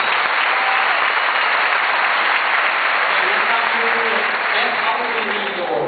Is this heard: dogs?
no